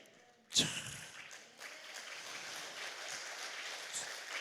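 A church congregation at a revival meeting in a prayer retreat breaks into applause. A sharp burst comes first, then a quiet, steady wash of clapping that continues to the end, faint and somewhat distant.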